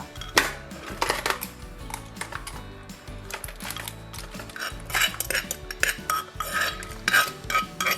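Bamboo shoot and cockle salad is served onto a dish, with busy clinks of utensils against plates and bowls, light scraping and scattered small knocks close by and unbroken.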